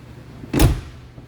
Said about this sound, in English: Go ahead and close the front door.